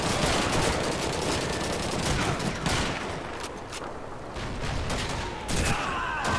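Dense, loud gunfire in Call of Duty 2, rapid overlapping rifle and machine-gun shots crackling continuously with brief lulls.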